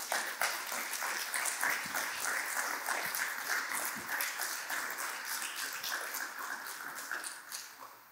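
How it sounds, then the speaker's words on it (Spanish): Church congregation applauding, a fairly faint, continuous patter of many hands with a few sharper individual claps, easing off toward the end. "¿Quieren darle un aplauso al Rey?"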